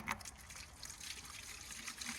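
Gasoline poured from a container to dip clay shooting targets, a steady close trickling and splashing of liquid running without a break for a couple of seconds, fairly quiet with no talk.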